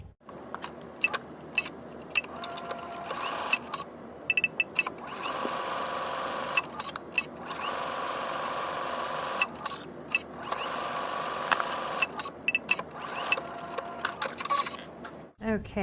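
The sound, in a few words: sewing machine stitching along a seam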